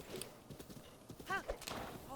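Horse hooves clip-clop in Zelda: Breath of the Wild, a quick steady gallop with a whinny rising partway through, close and clear under a steady game background.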